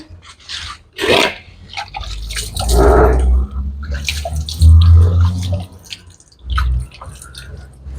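Water gushes hard from a submersible pump outlet on a Punjabi farm where buffalo are kept, a loud close splashing rush that surges and eases, with a few brief voices partly heard over it.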